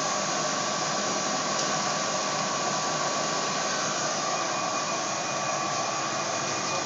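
A WJ-UV400 UV curing dryer runs with its conveyor belt turning, giving a steady, loud fan-like whoosh and a constant hum that holds unchanged throughout.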